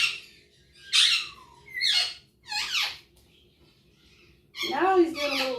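A pet bird in a home kitchen gives a series of loud squawks and squeaky chirps, four or five close, piercing calls separated by short quiet gaps.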